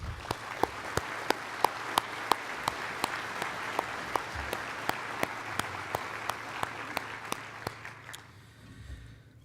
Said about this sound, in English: let's do a round of applause for everybody